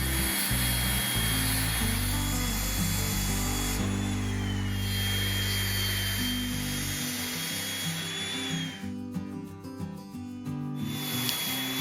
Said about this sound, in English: I'll start cutting the back panel.